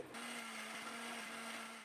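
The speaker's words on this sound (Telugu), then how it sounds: "మిక్సీ పట్టుకుంటున్నాను" A mixer grinder grinding idli batter runs steadily with a loud, even whirring drone that holds from start to finish without pause.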